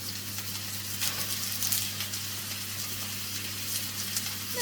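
Ground meat with half a diced onion frying in a pan while making a burrito bowl filling, giving a steady close sizzle and hiss with a low constant hum underneath, no talking.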